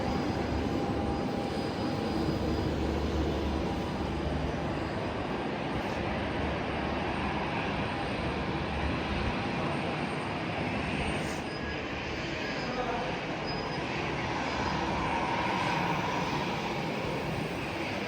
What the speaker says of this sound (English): Time to get on the plane!